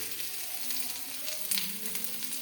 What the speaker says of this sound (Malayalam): കടുക് വറക്കാൻ ഉള്ളി അരിഞ്ഞത് ഇട്ട് കൊടുത്തു.